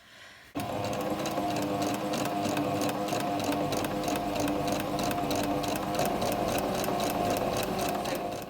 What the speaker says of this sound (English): You just sew and sew, go back and forth on either ends because you want these to last.